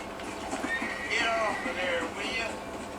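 A horse neighs with a drawn-out whinny inside the video game Red Dead Redemption, rising clearly over quiet game ambience.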